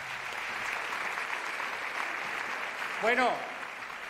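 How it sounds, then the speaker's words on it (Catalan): Applause at the GRG awards ceremony, with a steady wash of clapping from the audience that carries throughout and a single voice briefly speaking over it near the end. "Un fort aplaudiment"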